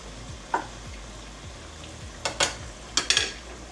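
Jarred Italian beef heating in a pan, soft sizzling bed broken by a few scraping stirs of a utensil against the pan, close and alone.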